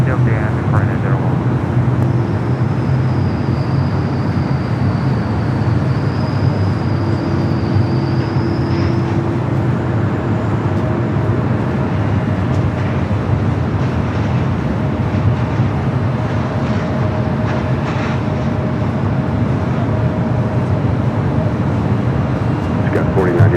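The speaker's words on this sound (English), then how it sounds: "Korean Air 11 Super roll down to the end." A Korean Air airliner rolls down the runway for takeoff at LAX, a loud, steady jet roar filling the air with a rising whine in places, under a voice heard faintly over a radio.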